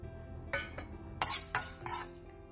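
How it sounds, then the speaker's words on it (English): Cumin and coriander seeds dry roasting in a pan, with soft scraping and rattling bursts as they are stirred, quiet and intermittent across a few seconds. "Now we will dry roast these cumin seeds and coriander seeds"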